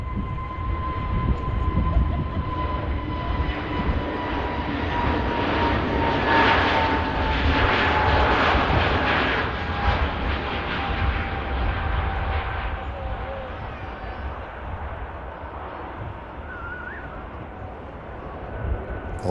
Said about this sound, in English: Awesome departure, heading down to London Heathrow.